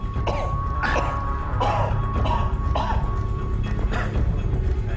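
A patient coughing and clearing the throat several times in short, close bursts, with steady background hum and no talking.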